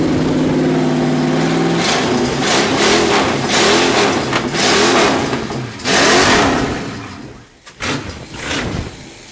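A 350 Chevy V8 with a four-barrel carburetor runs with a fan going, revving in several loud, close bursts that rise and fall over a steady idle, then drops briefly before picking back up.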